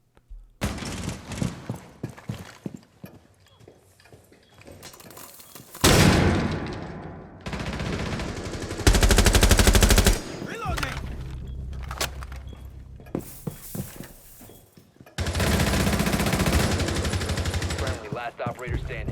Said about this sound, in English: pay attention to the last gunfight that I get into